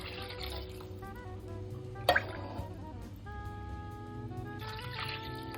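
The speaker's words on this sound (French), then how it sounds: "je vais mouiller avec le bouillon que j'ai préparé pour couvrir" Prepared broth poured over chicken and vegetables in a pot, a soft liquid trickle with dripping and a brief splash near the middle, quiet and close.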